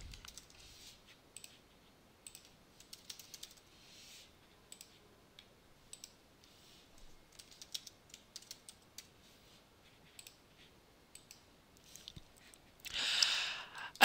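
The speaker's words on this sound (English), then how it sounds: "Now you will type in the different options that you want to appear on the drop-down menu." Steady typing on a computer keyboard while entering options for a drop-down menu, with quiet, irregular bursts of key clicks spread across the whole stretch and a brief louder rustle near the end, no speech.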